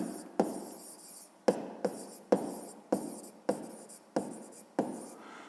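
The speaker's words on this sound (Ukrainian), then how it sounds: "тепер записуємо розв'язання." A pen writes out the solution to a fifth-grade math problem by hand: a quiet, close series of about nine soft scratchy strokes at a steady pace, each starting with a light tap.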